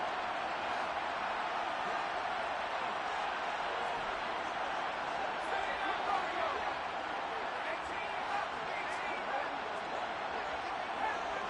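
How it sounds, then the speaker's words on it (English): A Super Bowl football stadium crowd roars steadily as a wide, continuous wash of cheering, fairly loud and unbroken throughout the stretch. "the crowd getting into it as we come up on a big 3rd down"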